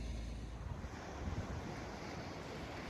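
Ocean waves at the beach, a steady broad wash of surf mixed with wind noise against the microphone, continuous with no talking.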